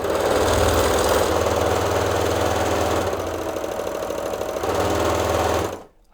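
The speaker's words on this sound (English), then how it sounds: "All right, first run with a new motor." A sewing machine fitted with a new, faster motor runs loudly and steadily, its rapid mechanical hum and fast needle clatter continuing alone before cutting off abruptly near the end.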